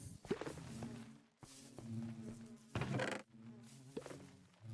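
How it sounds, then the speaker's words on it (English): Bees buzzing in the Minecraft video game: soft, low droning buzzes that come in several separate bursts with short quiet gaps between them, faint overall and with no talking. "The army of bees."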